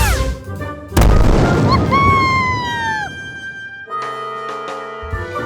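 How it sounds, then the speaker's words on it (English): A cartoon magic blast fired into the sky: a loud, sudden boom hits about a second in, trailed by sparkling descending whistles and bright musical tones that ring out to the end. "Boom! A beautiful blast."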